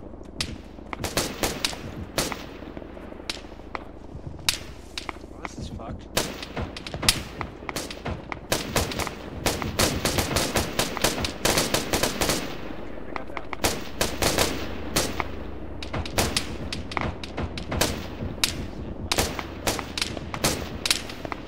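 Firefight in Arma 3 with squad-level gunfire: repeated machine-gun bursts and single rifle cracks come at close and medium range in uneven clusters for about twenty seconds, with occasional thuds and faint radio chatter underneath.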